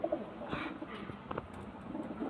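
Soft, low cooing from a female pigeon repeats in short phrases against a quiet, steady background hiss, fairly close by.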